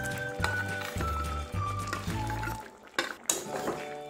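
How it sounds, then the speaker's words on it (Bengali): Fried paneer pieces tipped into cauliflower gravy in a pan, with clinking of a spoon or spatula against the metal pan in a few distinct strokes over a low steady hum, then a couple of sharper knocks near the end. "এবার এর মধ্যে আমি দিয়ে দিচ্ছি ভেজে রাখা পনিরগুলো।"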